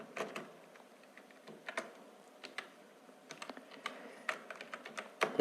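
Typing on a computer keyboard while entering text in an MS Word document, a steady run of light, close key clicks in irregular bursts with no voices.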